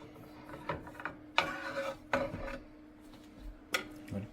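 Knife sawing through a slice of sweet bread baked in a Vevor bread maker, a series of short rasping strokes and a few clinks against a board, fairly quiet with no talk.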